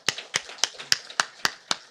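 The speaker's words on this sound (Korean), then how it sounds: "다시 한번 박수하겠습니다." Church congregation clapping during a Sunday worship service in unison, seven sharp, evenly spaced claps in a steady rhythm, close and distinct against a quiet background.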